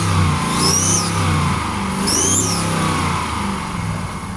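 A car engine with a restricted exhaust and a blown-out exhaust gasket revving loudly and steadily, with two rising squealing sweeps riding over the low engine roar, close and without talk.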